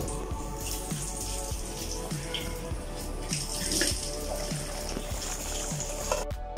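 Water runs into a pot of chicken masala curry, a continuous splashing trickle with soft repeated drips and bubbling, fairly close and moderately quiet.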